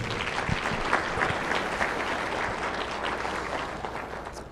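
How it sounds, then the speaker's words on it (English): An audience at a ski area executive summit applauds steadily, a dense, even clapping from a room full of people that holds for several seconds before starting to taper off. "So give our partners a round of applause."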